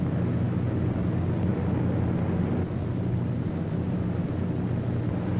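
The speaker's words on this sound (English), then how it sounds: "A formation of 18 B-17s was on its way to attack Rouen." Droning engines of a formation of eighteen World War II B-17 bombers in flight on a raid, a steady dense low rumble that stays loud and unbroken throughout with no voices.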